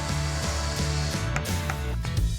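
Repeated whirring bursts of a drill biting into wood, with short pauses and mechanical clicks between passes, loud and close.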